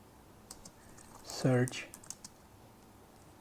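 Keys clacking on a computer keyboard as a Linux command is typed, a short quiet burst of keystrokes with a spoken word over it.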